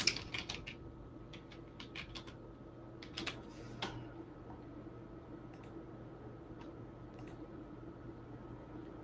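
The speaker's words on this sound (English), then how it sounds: "If I type Patricia, yes." Computer keyboard typing in a quiet room: a few quick bursts of keystrokes near the start, then sparse scattered taps over a steady low hum.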